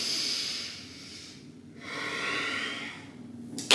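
Forceful breaths during breathing crunches on a small exercise ball: two long, loud, hissing exhalations with a brief quieter pause between them, close to the microphone, ending in a sharp burst.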